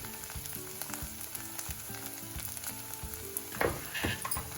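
Onions with red chilli, turmeric, a little salt and coriander frying in a kadhai for restaurant-style kadhai paneer, giving a steady close sizzle with stirring scrapes and a louder spattering burst near the end, no talking.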